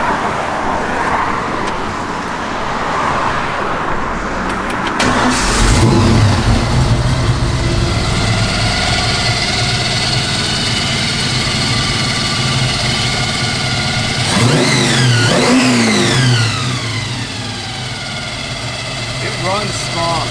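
A 1966 Ford Mustang engine runs loud and close, idling with a rough steady rumble, then swelling into a brief rev midway before settling back.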